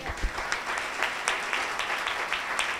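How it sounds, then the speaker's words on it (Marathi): A congregation at a Christian pastor's sermon claps loudly, a steady continuous patter of many hands with no speech over it. "टाळ्या वाजवा जोरात"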